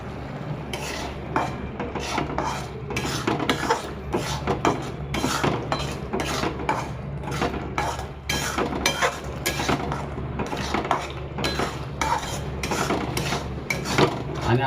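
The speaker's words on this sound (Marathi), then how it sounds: "आपल्याला व्यवस्थित कांदा टमाटा भाजून घ्यायचा असतो" A spoon scrapes and clinks around a pan while an onion and tomato masala roasts, giving a steady stream of stirring strokes that sit close and fairly loud.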